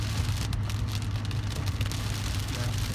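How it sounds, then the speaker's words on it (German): Steady rain falls on an airfield in Florida, a dense, continuous hiss of drops with a low rumble underneath and no talking. "Es regnet gerade hier."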